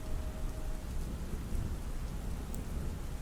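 Steady rain falls through a thunderstorm, with a constant hiss and low rumbling underneath, evenly loud throughout and with no voices.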